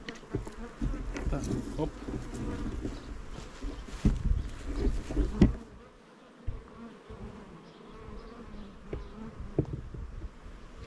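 Honeybees buzz around beehives holding a new row of nucleus colonies, a dense, steady outdoor hum with louder swells close by in the first half, then a thinner, more distant drone, broken by a brief interjection.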